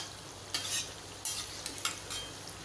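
Stuffed green chillies deep-frying in hot oil give a steady low sizzle, broken by a few brief louder bursts of spattering as oil is splashed over them.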